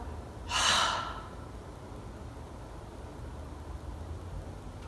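A single deep breath taken in a yoga goddess pose, heard as one soft, airy inhale close to the microphone near the start, then quiet room tone.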